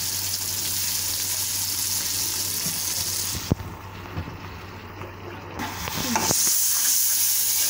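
Chicken pasta ingredients with soy sauce and yogurt stirred in a hot pan, a steady loud sizzle that briefly dips as a spoon clacks and scrapes, then swells back up; no talking.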